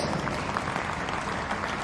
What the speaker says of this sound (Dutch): Mag ik nog eenmaal een applaus voor duo Hewitt Reed en De La Puente